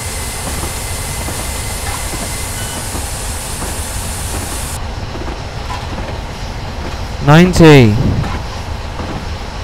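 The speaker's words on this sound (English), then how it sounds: "The squealing of the wheels and the rails?" A simulated Flying Scotsman rolls on with a constant rumbling rail noise in RailWorks, then the wheels give a brief, loud, wavering squeal against the rails near the end while someone talks.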